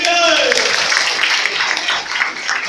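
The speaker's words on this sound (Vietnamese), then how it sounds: "một tràng pháo tay nồng nhiệt đi quý vị ơi." An audience at a Vietnamese business seminar applauds the managers, a steady wash of clapping heard under a presenter's continuing voice.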